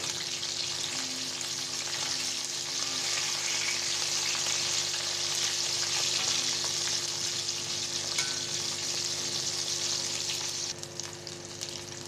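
Iftar snacks fry in hot oil while being turned, a steady, close, dense sizzle that holds evenly for about ten seconds before easing slightly near the end, with no voices.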